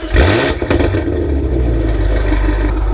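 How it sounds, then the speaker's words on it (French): BMW M8 with a free-flow exhaust: the engine fires up with a sharp blip of throttle, then settles into a deep, steady idle rumble, close and loud with no talk. "il y a un espèce de coup de gaz au démarrage"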